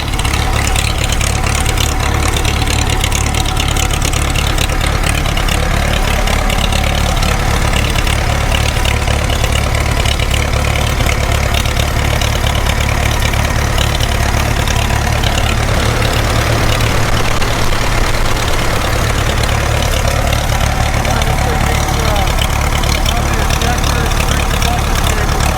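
An old Farmall 350 diesel tractor, half buried in snow with worn injectors, idles loudly and close in a steady, rough rumble that runs without a break.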